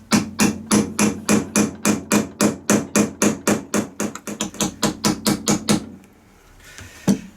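Rapid, regular hammer blows drive a bearing into a BMW/Jaguar 5HP24 gearbox tail piece, about twenty sharp metallic bangs in a steady rhythm, then a pause and one final hit.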